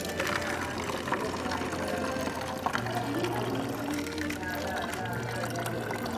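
Water splashes and trickles steadily from a public fountain in Venice, a continuous pouring wash with a low hum in the background, while a person talks over it.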